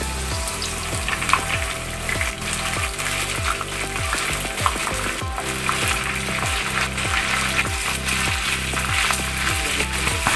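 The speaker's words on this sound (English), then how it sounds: "Now our oil is heated up. We will add corns into it." Corn kernels coated in batter frying in hot oil, a steady, dense crackling sizzle with rapid popping that continues loudly and evenly throughout.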